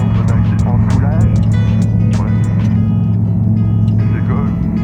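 Rotax 912 ULS aircraft engine at takeoff power, a loud, steady droning roar with strong low harmonics that holds throughout, with a voice talking over it.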